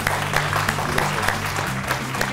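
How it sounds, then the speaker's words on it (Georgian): A TV game show audience claps steadily, dense even applause sustained throughout with a faint crowd murmur beneath. "აპლოდისმენტები"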